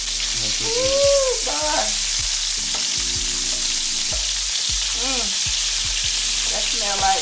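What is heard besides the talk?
onions frying in bacon fat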